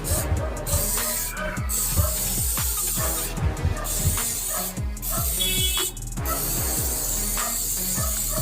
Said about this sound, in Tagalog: Dito tayo nag-spray sa labas guys kasi medyo ano,